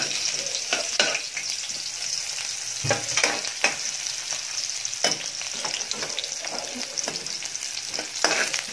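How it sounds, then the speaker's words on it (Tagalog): Garlic and onion sautéing in a preheated pan: a continuous crackling sizzle broken by irregular spatula scrapes and stirring knocks, close and fairly loud throughout. "Sutayin lang natin guys. Hanggang mag-brown."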